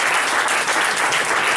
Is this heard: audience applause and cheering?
yes